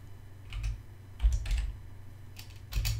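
Keystrokes on a computer keyboard typing a file name, a few short bursts of close, quiet clicks with pauses between them.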